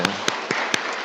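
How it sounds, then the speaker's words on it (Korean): Short burst of congregational applause in a London Korean church service welcoming visiting parents, with a few sharp claps standing out over a steady wash of hand-clapping, moderately loud and brief. "환영의 박수."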